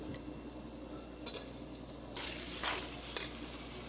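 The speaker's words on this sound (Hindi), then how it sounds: "अब हम डालेंगे इसमें केले।" Bananas go into a sizzling cardamom masala and are stirred, a soft steady frying hiss broken by a few brighter bursts of sizzle and scraping strokes.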